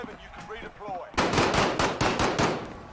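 Rapid automatic gunfire in the video game Call of Duty Warzone, loud bursts of several shots each, close-up, after a short stretch of quieter game sounds and faint voice.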